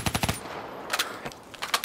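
Rapid bursts from the CUDA gun in a video game, fired close and loud in short automatic volleys separated by brief pauses.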